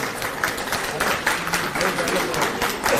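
A crowd applauds steadily at the Chandni Chowk Shopping Festival in Delhi, with dense overlapping claps and faint murmuring voices mixed in.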